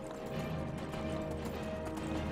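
Shadowmere, a horse in the video game Skyrim, gallops in a steady, dense rush of hoofbeats that stays at an even loudness throughout.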